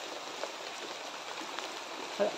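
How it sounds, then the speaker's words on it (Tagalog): Rain falls steadily and heavily outdoors, a dense, even hiss close to the microphone with faint scattered drops and a brief louder knock near the end. "Lumalakas na yung ulan, no?"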